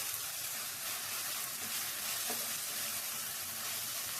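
Brinjal pieces frying in a pan for a Kannada-style brinjal curry, a steady close hiss and sizzle of hot oil that continues evenly without talk.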